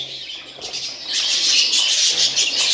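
A purple budgerigar squawks and chatters at close range, with a burst of wing flapping rising into a sustained bright flutter of harsh calls.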